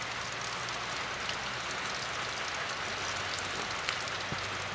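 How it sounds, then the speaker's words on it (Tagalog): Heavy monsoon rain falls without pause, a dense and even hiss of drops striking surfaces close by with a faint low hum beneath it and no talking. "Ay, napong ulan, walang tigil, walang sawa."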